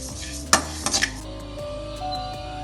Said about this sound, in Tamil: அடுத்ததா சீரகம், இதையும் வறுத்து எடுத்துக்கலாம்